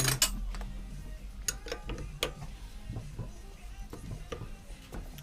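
Mechanical clicking and ratcheting from the Rota clutch of a Honda HRX476 lawnmower being tightened up, a run of sharp close clicks and knocks over a low steady hum, with no talking.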